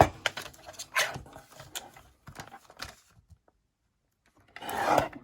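Paper trimmer slicing through a book page, heard as short rough rubbing and scraping strokes close by, then a pause and a final louder rasping pass.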